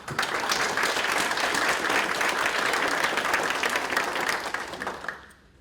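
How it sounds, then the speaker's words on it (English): A keynote audience at a languages leadership meeting gives a round of applause, dense even clapping lasting several seconds before quickly fading out at the end. "I want to grant them another round of applause"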